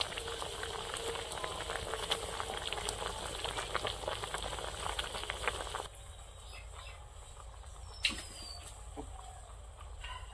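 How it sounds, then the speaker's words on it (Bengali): A cauliflower curry bubbles and sizzles vigorously in a pot over a fire, a dense crackling simmer for several seconds before it drops to a quieter bubbling with a few light clinks. "তরকারিটা ফুটে উঠেছে"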